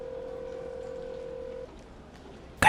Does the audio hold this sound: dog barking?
no